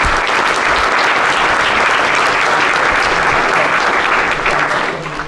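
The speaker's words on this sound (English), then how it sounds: "could we give Tim Farron a round of applause for joining us today?" Dense, steady applause fills the room from an audience at a Liberal Democrat leadership hustings in North London, sustained throughout and easing slightly at the end.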